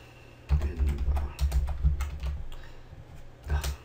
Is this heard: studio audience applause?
no